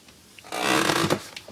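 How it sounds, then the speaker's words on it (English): An old, partly broken chair gives a drawn-out, groaning creak lasting about a second, close and fairly loud, with a few short squeaks after it and no talking. "weird squeaking sound, that's my chair that I'm sitting on. It's very old and it's kind of broken."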